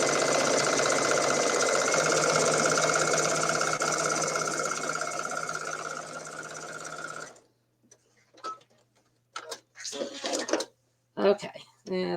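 A sewing machine stitches a quilt seam about 1/8 inch from the edge, running as a loud, steady, close mechanical whir for about seven seconds before stopping, followed by a few short clicks and handling noises.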